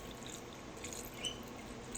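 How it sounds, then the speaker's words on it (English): Water poured into a rock tumbler barrel holding rough rocks, giving a steady, soft, close trickle and splash that runs on evenly throughout, with no talking. "And then I'll be adding some water."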